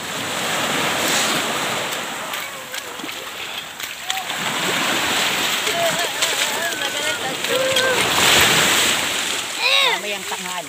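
Engine rumble and wind over breaking waves and splashing water as a motor boat moves on the sea off Paguriran beach in the Philippines, with voices talking over it.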